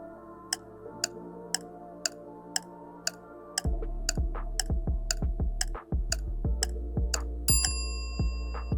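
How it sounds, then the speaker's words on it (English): Clock tick-tock sound effect with evenly spaced sharp ticks, joined partway through by a louder rhythmic ticking layer, with a bright bell ring near the end, all clear and close. "go to Audio search for clock tick-tock, drag and drop it"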